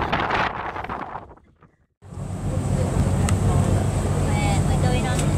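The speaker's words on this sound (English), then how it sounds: "We're going on a cruise around Whitby." A cruise boat out on the sea around Whitby on a breezy evening, a steady low engine rumble with wind buffeting the microphone, after a brief drop in sound.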